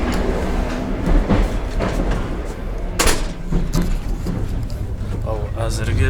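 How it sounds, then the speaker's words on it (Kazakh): Inside a moving passenger train crossing open steppe, a constant rumble and rattling clatter runs throughout, with occasional sharper knocks and a voice speaking over it. "Ал әзірге пойыз дейтін осындай далалы жерде келе жатыр."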